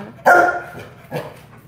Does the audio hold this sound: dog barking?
yes